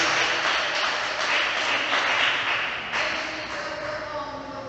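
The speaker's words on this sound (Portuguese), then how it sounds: "dê uma salva de palmas bem alegre para Jesus" A church congregation gives a joyful round of applause, dense steady clapping from many hands filling the room, fairly loud and sustained, easing slightly toward the end.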